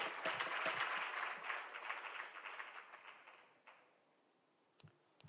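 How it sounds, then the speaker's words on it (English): Applause for a panel of speakers at an organization's live-streamed event, dense clapping that starts full and gradually thins and fades away, leaving scattered faint claps near the end. "Please give them all an applause for our panelists."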